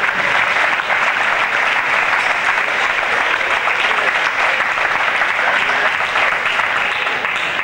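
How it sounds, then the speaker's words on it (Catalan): A room of guests at a 1996 social event gives loud, sustained applause for Enric Porta, a dense and even roar of many clapping hands close by. "aplaudim a l'Enric Porta i agraïm la seva participació a la taula"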